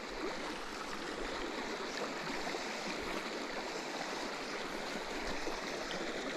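Shallow running stream in New England trout water, a continuous broadband rush and gurgle heard from close by, steady and fairly quiet, with no voices.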